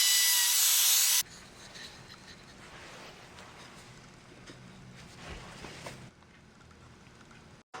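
A piece of wood being sawn to size by hand, a steady close rubbing rasp of strokes lasting several seconds after a brief loud burst at the start, then quieting.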